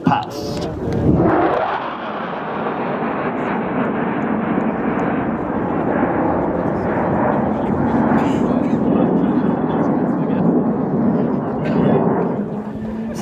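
An F-35A fighter jet makes a fast pass at the Axalp 2022 Swiss air show, a loud roaring jet rush that swells in sharply and then holds a steady, heavy roar throughout.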